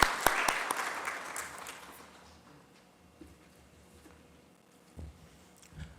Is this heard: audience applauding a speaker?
yes